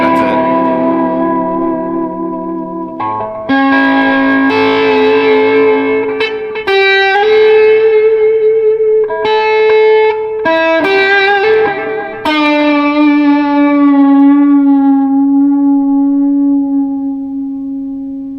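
An electric guitar plays through a REVV D25 amplifier, lightly boosted by a J-Rocket Archer and given echo by a Strymon Volante, sounding loud, sustained, slightly driven notes and chords with ringing repeats and no voices.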